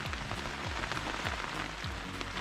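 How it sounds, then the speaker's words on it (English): Heavy rain pours down at a beach camp in Norway, a dense, constant hiss of drops drumming on a surface nearby, with a low repeating hum underneath and no voices. "It's like pissing down rain"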